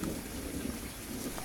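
Rain falls steadily at a quilombo, heard as a soft, even hiss with a faint low rumble beneath it and no voices.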